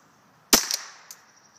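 Single sharp crack from a Henry survival rifle fired at a target about 33 yards away, followed by a short metallic clatter and faint echo, loud and close.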